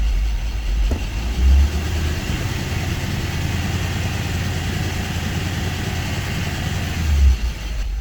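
A Honda EK Civic engine, fitted with a swapped manual gearbox, runs in third gear as a steady close low rumble with a couple of brief louder bumps, and no one talks over it.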